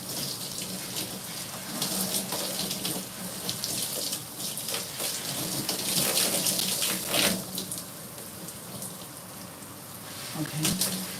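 Tap water runs steadily and close while hair dye is rinsed out in a sink, a continuous broadband splashing that shifts as the hair moves under the stream, with faint incidental sounds.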